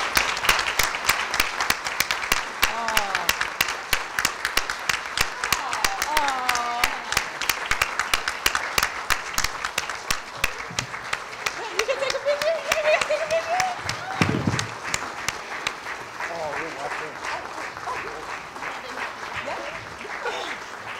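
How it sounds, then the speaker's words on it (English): Long, steady audience applause for young panelists at a diversity panel event, dense clapping that carries on throughout, with voices and cheers faintly audible beneath it. "Can we give them a nice round of applause?"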